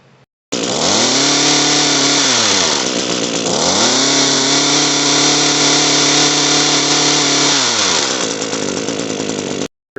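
An Echo HC-150 hedge trimmer engine fitted with an aftermarket carburetor, running short of full RPM, starts up loud and close. It dips and revs back up, holds a buzzing high whine, then drops to a lower idle before cutting off.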